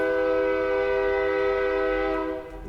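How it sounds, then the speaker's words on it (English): A train horn blares loud and close in one long, sustained, chord-like blast that holds steady and then eases slightly at the end, with no voices over it. "And there go that damn train again."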